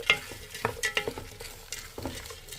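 Peas and meat are stirred in a pot, with a soft sizzle of frying under repeated scraping and clinking of the spoon against the pot in an irregular rhythm, close up and fairly quiet.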